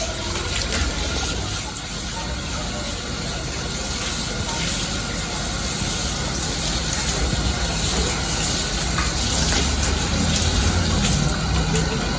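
Air conditioner filter meshes being rinsed with water, giving a steady, close gushing and splashing rush that runs unbroken for the whole stretch, with no talk over it.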